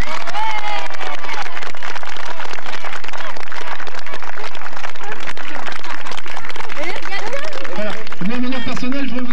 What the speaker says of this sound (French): alors on applaudit Carole